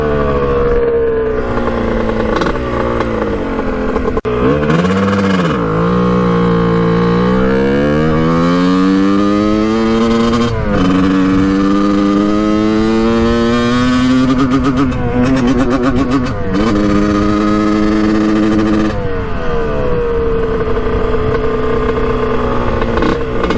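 A Kawasaki KX125 two-stroke dirt bike engine, running boggy and rough at the top end, revs up and down repeatedly, its pitch rising and falling in loud close sweeps with no talking.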